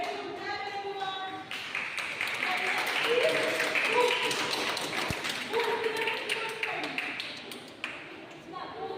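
Students at a school event clap in a rhythmic burst while a teacher talks over them, with sharp taps and thumps mixed in.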